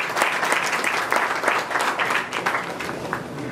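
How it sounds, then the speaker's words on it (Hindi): Audience members clap for performers after dance presentations, a lively, moderately loud wash of many hands with small swells, no voices on top. "कृपा करके उन सब के लिए तालियां बजाइए।"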